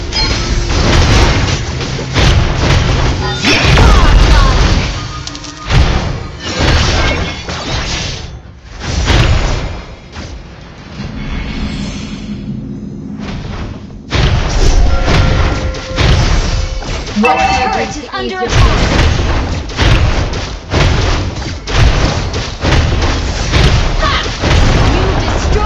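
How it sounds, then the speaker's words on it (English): A turret being destroyed in the Mobile Legends mobile battle game, heard as a dense run of loud crashes, booms and thuds amid hectic game effects, with a quieter stretch in the middle. "You destroy the turret!"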